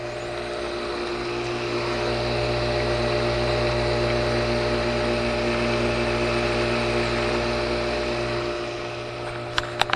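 A pool filter pump of about 1.5 horsepower running beside a swimming pool, giving a loud, steady mechanical hum and drone that holds for the whole stretch, with a couple of faint clicks at the end and no talking.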